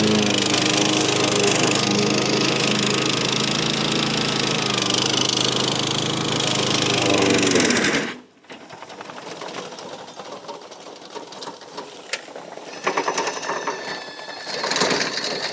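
An SDLLM500 remote-controlled lawn mower cuts roadside ditch grass with a loud, steady engine-and-blade roar for about eight seconds. It then cuts out abruptly to quieter, scattered clatter and low running noise.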